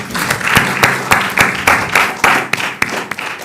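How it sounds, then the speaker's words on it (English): Lecture-hall applause for presenters and moderators at an anniversary lecture series in Anguilla: loud, close hand claps in a steady, evenly spaced rhythm, sharp and distinct. "I want to ask for a round of applause for the presenters and moderators"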